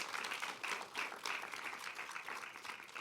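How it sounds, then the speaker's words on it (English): A panel-discussion audience gives its panelists a round of applause, a faint, even crackle of many hands clapping at some distance, continuous throughout. "If we could just get a round of applause for our panelists."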